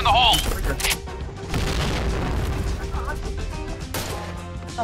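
A grenade blowing up in the Point Blank shooter game on the Midtown map, a loud boom that trails into a long rumbling crash, with voices talking around it.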